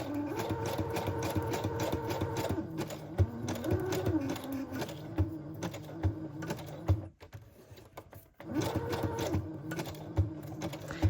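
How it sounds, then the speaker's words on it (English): A sewing machine stitches slowly along curved shapes on paper, its fast rhythmic chatter running nearby for several seconds, pausing briefly, then starting up again. "a little look at how I sew shapes that are not super straight"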